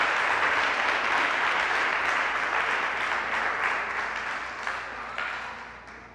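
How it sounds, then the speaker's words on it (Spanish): A church congregation claps during a sermon on the resurrection, a dense wash of applause that is steady at first and then gradually fades away. "Dámele un aplauso a Dios,"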